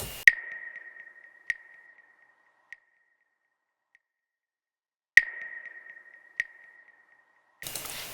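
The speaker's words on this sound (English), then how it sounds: "woodblock sound." Short, sharp woodblock-like clicks from an instrumental breakdown, each a hollow knock with a faint ringing tail: one strike near the start, softer taps around 1.5 and 2.7 seconds, then a repeat of the pattern about five seconds in.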